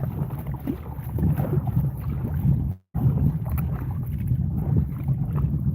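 Paddling a kayak across open water from a moored sailboat toward an island, with steady broadband water wash and wind buffeting the microphone throughout, broken by one brief dropout midway.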